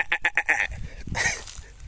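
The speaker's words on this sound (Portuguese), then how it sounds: "Tem uma ovelha ali" A sheep on a rural farm property bleating in a quick series of pulsing cries, followed by a longer, wavering bleat, moderately close, with a low rumble under it.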